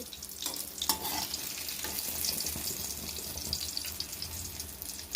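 Dried fish pieces frying in a pan give a steady, close hiss and crackle, with a few scraping stirs early on and no talking.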